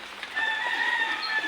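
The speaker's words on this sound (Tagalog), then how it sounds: "sarap ng mga uni ng mga ibon" Outdoor birds call steadily over a rural backdrop, with crowing and clucking fowl such as chickens and a rooster among them, the calls continuous and fairly close throughout.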